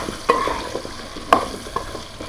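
Dried fish curry, shutki, sizzles softly in oil in a pan while a utensil stirs and scrapes it in a few distinct strokes, quiet and close with no talking.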